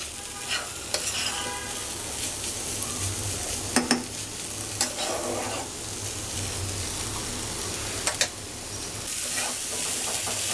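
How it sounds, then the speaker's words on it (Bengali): Yardlong beans fried with coriander and cumin powder are stirred in a pan, giving a steady sizzle with scraping strokes and a few sharp utensil clicks throughout, with no talking. "এখন সব কিছু আবারও নেড়ে নিচ্ছি"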